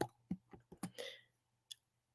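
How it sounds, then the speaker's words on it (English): Keys click quickly on a keyboard while typing into a livestream chat, with a short burst of close, quiet taps, a pause, then one last isolated click. "I'm going to type in here."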